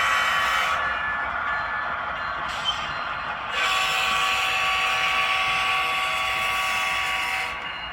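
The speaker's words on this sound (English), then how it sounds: "The crew of the NS local blows their horn as they cross over the Main Street crossing" On an HO scale switching layout, a Norfolk Southern model locomotive sounds its horn at a street crossing: sustained, buzzy horn tones lasting several seconds over the steady rolling noise of the train.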